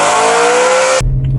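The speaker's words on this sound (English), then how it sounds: "V8 sound" A loud, high-revving BMW E92 M3 V8 engine wails steadily, then cuts off abruptly, leaving a low idle rumble.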